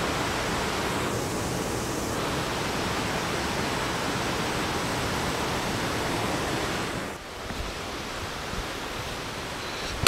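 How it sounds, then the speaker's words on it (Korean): Waterfall in Piagol valley on Jirisan, running at heavy volume: a steady, loud broadband roar of falling water that continues without pause, with a brief dip near the end. "폭포가 지금 예."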